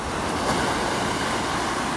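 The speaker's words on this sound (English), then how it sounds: "Oh, little tiny waves." Small ocean waves break steadily along the shore at Cabo, a continuous close wash of surf with some wind rumble and no voices.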